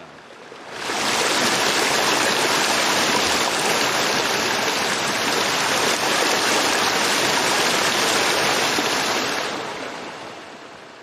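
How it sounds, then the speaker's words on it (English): A dull, muffled waterfall roar fades in, holds constant for several seconds, then fades away, low-pass filtered to sound as if heard from a tunnel behind the waterfall. "We applied a bit of a low pass filter there, which further enhances this feeling that we're now in a tunnel behind the waterfall"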